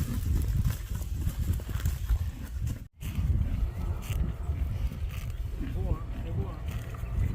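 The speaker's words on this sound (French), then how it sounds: "il galopait avec son cheval" Horse hooves clip-clop on a town street during a riding outing, a steady rhythmic clatter heard close by under people chatting, with light background noise throughout.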